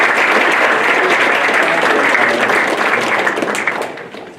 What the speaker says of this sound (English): let's give the WNAS crew a quick round of applause.